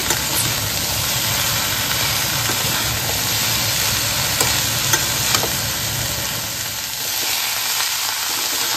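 Spiced vegetables with cumin powder stirred in a pan at home, a steady broadband sizzle with faint scraping running evenly throughout, close and continuous with no voices.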